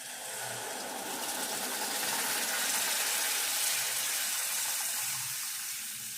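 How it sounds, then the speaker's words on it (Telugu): Tamarind juice pours into a pan of small fish curry frying in oil, making a steady, loud hissing sizzle that swells and then settles, with no talking. "ఇట్లా పైకి అంతా నూనె వచ్చినాక ఇప్పుడు చింతపండు సూపు పోసుకోవాలి."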